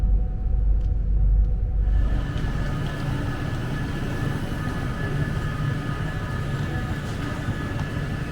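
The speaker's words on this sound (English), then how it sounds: "Welcome on board this Avanti West Coast service to London Euston, calling at Milton Keynes Central." Interior of an Avanti West Coast train bound for London Euston, a steady loud rumble of wheels and carriage with a faint constant whine, no talk.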